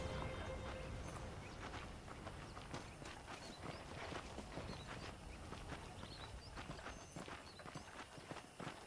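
Horse hooves clop in a steady, continuous rhythm in the video game Red Dead Redemption, faint and busy, with outdoor ambience around them and no talking.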